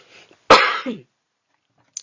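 A single sharp, close cough bursts out, followed by a brief raspy tail, then silence.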